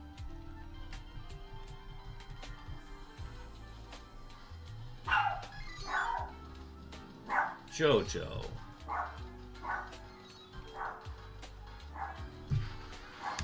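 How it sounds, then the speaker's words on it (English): A dog barks and yips repeatedly in the background of a room, fairly faint and intermittent over several seconds, while someone talks over steady game music. "I gotta see what he's barking about."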